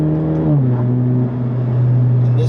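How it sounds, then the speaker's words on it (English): Alfa Romeo car driving on a Black Forest road, a steady engine drone with a slight pitch drop as it shifts, continuous and close, no talk. "this car is absolutely just eating up the road"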